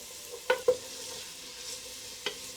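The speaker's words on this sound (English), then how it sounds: "So let's just give this a stir." Onions frying in a pan for a Maltese timpana, a soft steady sizzle broken by a few sharp scrapes of stirring near the start and once more toward the end, fairly quiet overall.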